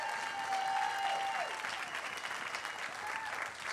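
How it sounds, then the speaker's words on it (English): An audience at the Mrs United States pageant claps steadily, a dense wash of applause that holds throughout, with a faint tone and some voices mixed in. "I'm gonna have to ask you to help me out with the hand claps again"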